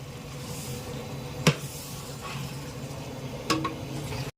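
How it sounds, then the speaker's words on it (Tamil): Tomatoes sautéing in a pan for vegetable biryani, a steady low sizzle with a couple of sharp utensil clanks against the pan midway and near the end. "இப்போ தக்காளி போடலாம் தக்காளி நல்லா வதங்கணும்"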